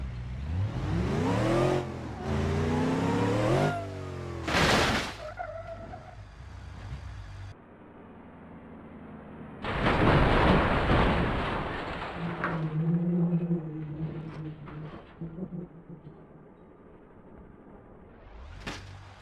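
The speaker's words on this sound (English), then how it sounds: "The radio-controlled car accelerates, takes off on a springboard, and lands on the roof of this Ford." A radio-controlled car revs up, launches off a springboard and crashes onto a plasticine model Ford Crown Victoria police car, giving bursts of whining motor, a sharp impact clatter and scattered rattles.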